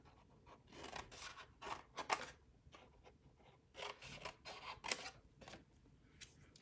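Scissors cut through scored card while a gift box is being made, giving a quiet, close series of crisp snips and rasping slices in uneven bursts, with no talking.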